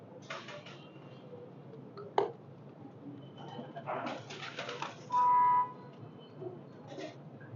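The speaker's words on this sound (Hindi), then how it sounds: "ये हमें ताबुश भाई ने गिफ्ट किया है, तो ये उन्होंने मंगवाए थे कबूतर पिपलों वाले।" Pigeons coo softly in a few short, throaty bursts against a quiet background, with a faint creak and a brief sharp click.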